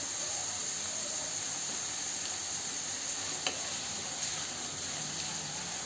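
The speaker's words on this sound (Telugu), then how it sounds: "మరాఠీ మొగ్గ కొద్దిగా వేపుకుందాం" Kapok buds sizzle and fry in a hot pan with cloves and cinnamon, giving a steady, even crackling hiss throughout and a few soft stirring taps.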